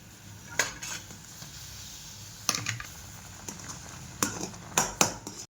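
A spoon scrapes and clinks against a pot while upma with peanuts boils, sharp intermittent knocks over a low bubbling hiss, close and fairly quiet.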